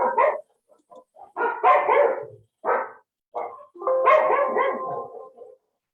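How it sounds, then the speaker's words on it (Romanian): Several dogs bark in repeated bursts, loud and fairly near, during an online meeting, with short gaps of silence between the volleys and no talk over them. "câinii sunt la dumneavoastră, nu?"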